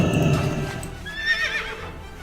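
A horse in World of Warcraft whinnies loudly with a wavering, rising and falling neigh, set over a low background rumble.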